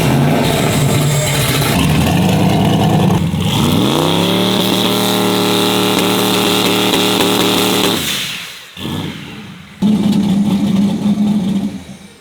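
A turbocharged Chevrolet Nova engine spools up on the brake, loud and close, its pitch sweeping upward and holding high. It cuts out near the end, then a brief second burst follows.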